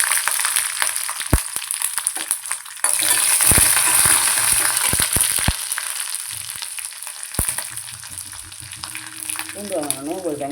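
Vadagam and garlic tempering in hot oil, crackling and sizzling with scraping stirs and a few sharp clicks, a burst of louder frying in the middle, close and with no speech.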